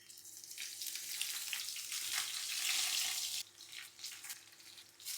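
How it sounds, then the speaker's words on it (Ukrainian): Loud, continuous sizzling of eggplant frying in hot oil in a pan, close up, with a slight drop in intensity partway through. "А зараз баклажани будемо обсмажувати."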